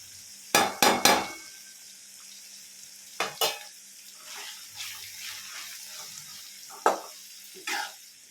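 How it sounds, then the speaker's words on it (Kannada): Spices sizzling in hot oil in a pan for capsicum rice, with a few sharp stirring scrapes and brief crackles breaking over a quiet, faint fry. "ಮಸಾಲೆಗಳೆಲ್ಲ ಕೂಡ ಸ್ವಲ್ಪ ಚೆನ್ನಾಗಿ ಎಣ್ಣೆಯಲ್ಲಿ ಫ್ರೈ ಆಗಬೇಕು."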